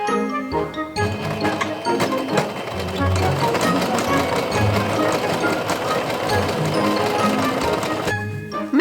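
A sewing machine stitches the elastic waistband channel of cosplay trousers with a steady, continuous mechanical whirr and fast needle clatter, running close and loud for most of the stretch before stopping near the end.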